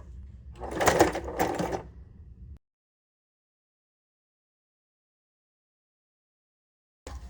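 A sewing machine runs in two quick bursts, stitching gussets on a shopping-bag journal made from a Victoria's Secret bag, then goes silent, with a faint mechanical click at the very end.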